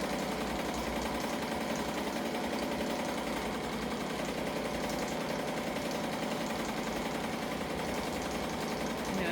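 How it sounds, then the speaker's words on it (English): An EMT16X embroidery machine stitches out an appliqué design with small eyes, mouth and cheeks, giving a steady, continuous mechanical whir and hum at an even level throughout, with no talking. "we're gonna let it finish stitching out"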